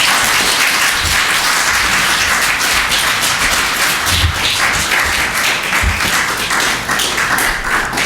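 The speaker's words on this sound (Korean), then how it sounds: "큰 박수로 여러분" A church congregation claps loudly and steadily after a baptism, a dense, continuous burst of many hands close to the microphone with no talking over it.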